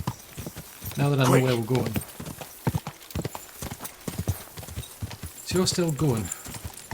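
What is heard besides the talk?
horse galloping hooves in video game Kingdom Come Deliverance 2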